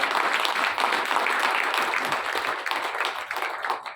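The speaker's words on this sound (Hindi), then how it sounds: "एक बार दोनों हाथ खड़े कर दो, ऐसे ताली बजाना, हिल जाए दिल्ली।" Audience at a conference in Delhi clapping with both hands raised, a dense, loud burst of applause sustained throughout and easing slightly toward the end, with little talk.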